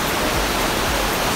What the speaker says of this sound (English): What do you think of the waterfall? Amazing, absolutely epic.